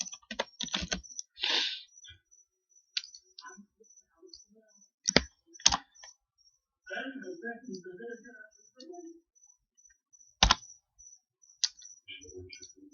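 Typing on a computer keyboard while working on an Excel spreadsheet: close, crisp key clicks come in short bursts and isolated taps separated by quiet pauses, with someone talking softly in between.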